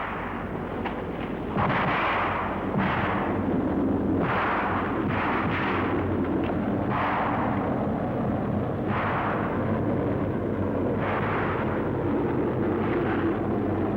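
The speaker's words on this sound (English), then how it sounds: "Here, small arms fire is used for protection." Small arms gunfire in war newsreel footage, heard as repeated bursts of shots and heavy blasts over a constant noisy, band-limited old film soundtrack.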